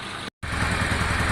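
A Honda Deauville motorcycle engine idles low after a carburetor clean, with a rapid, even putter, cut by a brief dropout before continuing unchanged; it has fuel pump and battery issues.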